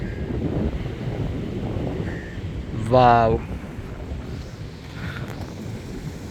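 Strong wind buffets the microphone on a cliff above the sea at Varkala beach, a steady close rumble that runs through the whole stretch, with a brief sung or exclaimed voice in the middle.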